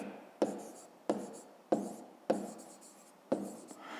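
Pen strokes on notebook paper during a fifth-grade math lesson on a square's area: five short scratchy bursts in a steady rhythm, each starting with a sharp tap and trailing off, close and fairly quiet with no talk.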